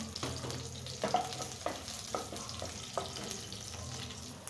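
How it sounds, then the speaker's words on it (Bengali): Quiet, steady sizzling of garlic frying in oil, with a few soft knocks and scrapes of a spoon stirring the pan. "রসুনটা ভাজা হয়ে গেছে"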